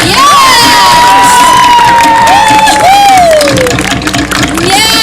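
A loud luau audience cheers and shouts for Tommy, a dense crowd roar with high whoops and children's voices rising over it throughout.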